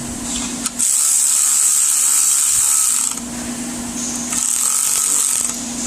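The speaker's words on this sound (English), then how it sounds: "Let me tighten this down." A valve spring compressor being tightened down on a Chevy Silverado Vortec engine: a steady, close mechanical whirring with a high whine runs for several seconds, drops briefly, then resumes, with no talk.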